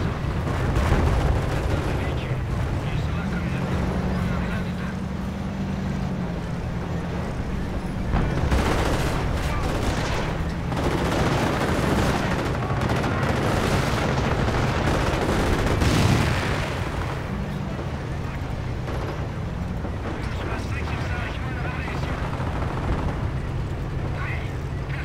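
Anti-tank gun fire in Company of Heroes on the Scheldt map, a 3v3 expert-mode battle, with steady booming and rattling combat noise throughout and heavier bursts near the middle, under a dense wash of battlefield sound and voices.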